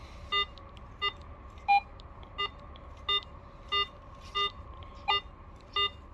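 A metal detector, either a Garrett AT Pro or a Minelab Equinox, beeps over a .58 caliber minie ball buried about nine inches down: nine evenly spaced electronic tones over a low hum.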